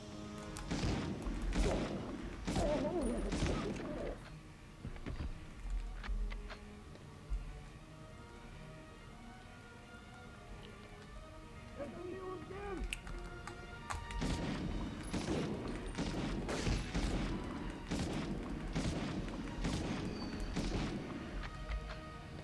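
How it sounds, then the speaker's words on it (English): Enemy gunfire in Medal of Honor on the PS1, bursts of rapid sharp shots and thuds in two heavy clusters separated by a quieter stretch of background game sound, with no talk. "Lovely, there's people shooting at us."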